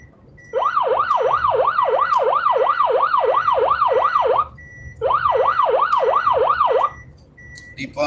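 An ambulance siren wails on a foggy highway while carrying a patient toward Dhaka, a loud, close, rapidly oscillating two-tone rise and fall that runs in two long bursts separated by a brief pause.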